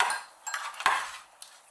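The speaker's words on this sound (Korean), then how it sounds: "아 설거지까지 해주시는 거예요?" Dishes being washed after a family dinner at a farmhouse, with cutlery and pots clattering in a few sharp clinks and knocks over running-water hiss, close by and with no talk.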